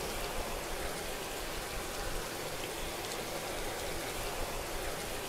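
Water leaks through a patched spot in a steady, even hiss of spraying and pattering water, continuous and moderately loud across the whole stretch with no pauses.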